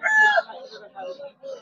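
Native hens and roosters at the Fatullah poultry market give a loud close crow followed by several shorter clucks, with a voice talking nearby.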